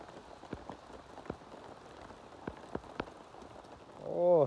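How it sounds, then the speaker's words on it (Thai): Rain falling on a roof, heard as scattered, distinct drops tapping at irregular intervals, with a brief voice entering near the end. "ฝนตกหนักแล้ว"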